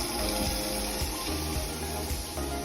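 Steady rushing of household water still flowing through a supply valve that will not fully close, a continuous close hiss and gush with no break.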